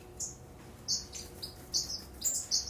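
Strawberry and lavender finches chirp in an aviary: high, short tweets come in irregular bursts of about eight calls, fairly close, over a soft steady background hiss.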